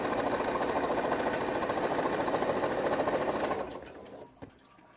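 A sewing machine runs continuously for about four seconds, stitching a quarter-inch seam on jelly roll fabric strips with a fast, even whirring chatter, then stops, leaving a few faint clicks and quiet.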